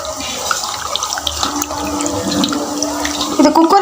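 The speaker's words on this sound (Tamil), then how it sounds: "நல்லா வந்து வாஷ் பண்ணிவிடுங்க ரெண்டு தாட்டி தண்ணி ஊற்றி" Tap water runs steadily into a sink or bowl as fresh mutton blood is rinsed, a close, continuous splashing stream that swells louder near the end.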